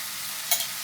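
Garlic paste, ginger paste and chicken are stirred in a hot pan, a brief steady hiss of sizzling with a short scrape of the spoon near the end.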